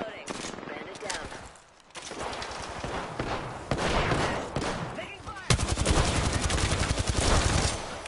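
Rapid gunfire crackles in a video game match, dense bursts of automatic shots close and loud, broken by a brief lull before firing resumes harder, with voice callouts over it.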